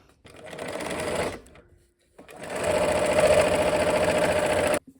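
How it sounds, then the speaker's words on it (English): A sewing machine stitches a quilt block seam in two close, loud runs of rapid steady whirring, separated by a short pause and ending abruptly. "let's go ahead and sew"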